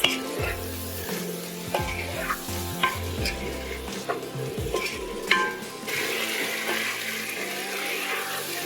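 Soft butternut squash pieces are stirred in a pot with black pepper, salt, cinnamon and curry powder, giving repeated wet scraping strokes over a low simmering sizzle, close and fairly loud.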